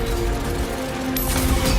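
Gunfire from the video game Doom: The Dark Ages comes as a dense, continuous barrage of loud mechanical weapon fire layered with booming impacts, without any pauses.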